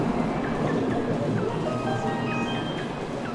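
A Tokaido Shinkansen line train moves at Tokyo Station: a steady rail rumble fills the scene with faint, high wheel squeals scattered over it, moderately loud and continuous, with no speech.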